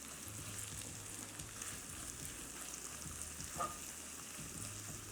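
Fresh ginger fries in a pan for a brown lentil dal, giving a faint, steady sizzling hiss with small crackles and no talk.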